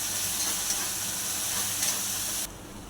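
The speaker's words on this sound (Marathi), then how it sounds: "गरम तेलात जिरे घातले, चॉप केलेला लसूण घातला, कांदा मिरचीची पेस्ट घातली, परतून घेतले तेलामध्ये" Cumin, chopped garlic and onion-chili paste frying in hot oil for a potato and green bean stir-fry, giving a steady close hiss and sizzle that drops away abruptly near the end.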